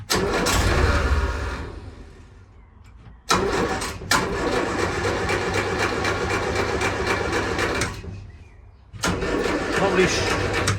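A Series 1 Land Rover engine cranks and catches, settling into a rough idle, then cuts out briefly and fires up again, with an unidentified noise on first firing; loud and close, with a voice mixed in.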